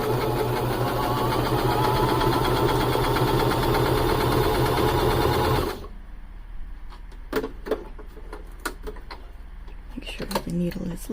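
Quilt fabric being stitched for a log cabin square on a sewing machine, a loud steady motor whir with rapid needle chatter that runs for several seconds, then stops abruptly and leaves faint clicks and light handling noises.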